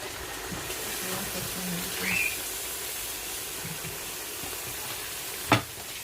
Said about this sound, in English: I'll stir, constant stirring.